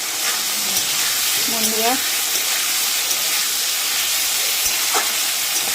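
Beans and radish fry in a pan with salt and turmeric, making a steady close sizzle with occasional stirring scrapes. Someone briefly speaks over the cooking.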